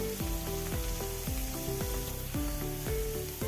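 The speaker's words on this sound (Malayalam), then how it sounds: "കുറച്ച് എണ്ണ കുറച്ചിട്ടുണ്ട് ഒരു ടേബിൾ സ്പൂൺ വെളുത്തുള്ളി അരിഞ്ഞത് ചെറുതായി അരിഞ്ഞത് അതുപോലെ ഒരു ടേബിൾ സ്പൂൺ ചെറുതായി അരിഞ്ഞ ഇഞ്ചിയും കൂടി ചേർത്ത് കൊടുത്ത്" Finely chopped garlic and ginger fry in hot oil for soybean Manchurian, a loud steady sizzle running the whole way under repeated tonal sweeps of background music.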